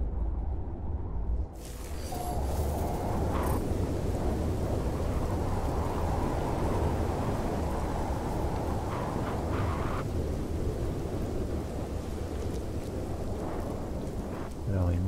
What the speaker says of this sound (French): on a une tempête en cours